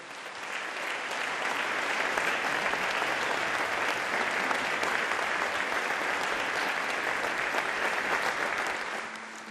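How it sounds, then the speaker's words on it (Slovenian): Audience applauding after a music school orchestra concert in Brežice, a long sustained burst of dense clapping from a hall crowd that swells, holds steady and tapers at the end. "Znova jim namenimo močan aplavz."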